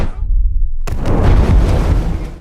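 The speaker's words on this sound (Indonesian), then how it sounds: "seketika terjadilah ledakan." A remote-detonated explosion in an action film erupts suddenly after a low rumbling lead-in, a loud broadband blast that rolls on as a sustained roaring, crackling boom.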